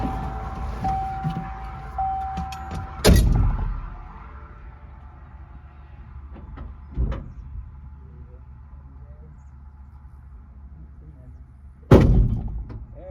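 A truck hood slams shut with a loud, sharp thud near 3 seconds. Two more heavy thumps follow later, one quieter and one loud, over a low idling background.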